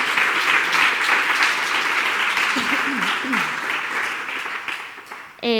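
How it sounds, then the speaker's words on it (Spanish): Sustained applause from an audience filling a conference room at a round-table session, dense steady clapping for several seconds, with faint voices and a brief tonal sound near the end. "os voy a pedir un aplauso"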